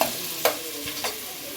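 Onions sizzle in a pan for chicken curry, a steady close frying hiss broken by a couple of sharp stirring scrapes, with no voices.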